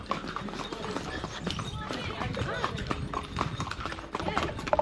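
Horse hooves clip-clop in a steady walking rhythm during a horse ride at Kanyam, Ilam, mixed with outdoor background noise and people talking.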